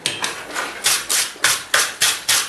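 A wire brush scrubs two pieces of steel just pulled from a forge fire at welding heat, eight rhythmic rasping strokes, close and crisp, each a short scratchy burst with brief gaps between.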